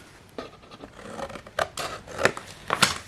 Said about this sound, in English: For the corners, so you cut across those corners.